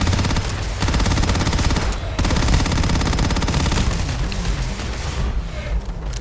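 Rapid, dense bursts of gunfire from a fast-firing gun in the space shooter game Starfield rattle on almost nonstop, loud and close, with booming impacts mixed in and short gaps between volleys.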